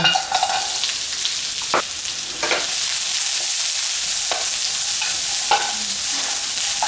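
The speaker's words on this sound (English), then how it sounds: "Just going to stir fry our onions here." Chopped red onion sizzles loudly in hot oil in a wok for a stir fry, with a constant hiss broken by scattered scrapes and clinks of stirring and no talking.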